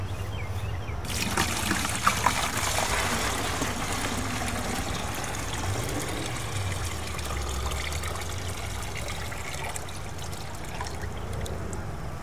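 Worm tea is poured and strained in a steady, soft trickle of liquid that runs continuously for several seconds, faint and close, with no one speaking over it.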